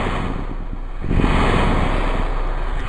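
Ocean waves wash and surge steadily in Kerbal Space Program after a capsule splashdown in Kerbin waters, a broad rushing surf with wind noise that swells louder partway through, no voices present.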